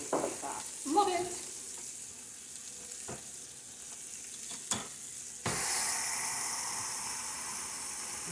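Food sizzles on a Pampered Chef Deluxe Grill and Griddle, a steady close hiss of frying broken by a few clicks and utensil knocks, with the sizzle swelling louder near the end.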